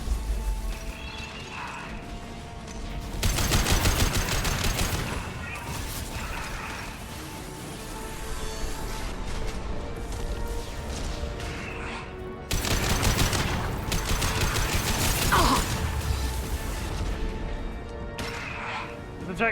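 Heavy gunfire in Mass Effect Legendary Edition: dense bursts of automatic shots and impacts come in loud waves, easing briefly between volleys, with background game sounds throughout.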